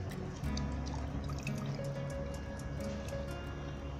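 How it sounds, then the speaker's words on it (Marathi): A thin flour-and-water slurry is poured into a simmering spinach curry (palak rassa), giving a steady, close liquid drip and slosh with soft squishy bubbling throughout. "आता हे त्याच्यामध्ये ओतायचं म्हणजे घट्टपणा येण्यासाठी"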